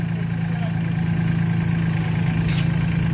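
A Solis 26 tractor, Indian-built with a Japanese Mitsubishi engine, idles with a steady low, throbbing drone close by, even and unbroken throughout.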